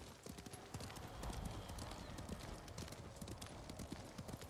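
Horse hooves clip-clop steadily in Ghost of Tsushima on PS4 gameplay, a dense, continuous trot with a brief whinny, moderately loud over game ambience.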